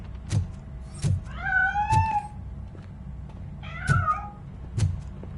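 A cat meows twice in a video game, each a drawn-out plaintive cry, set among regular soft knocking thumps over a low background rumble.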